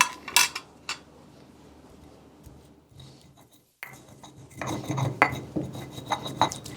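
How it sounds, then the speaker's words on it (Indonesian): Ginger, turmeric, shallots, garlic and palm sugar are ground into a paste, heard up close as irregular scrapes, knocks and clinks that grow busier toward the end. "Ada jahe, ada kunyit, ada bawang merah, bawang putih dan gula merah. Ini semua kita haluskan."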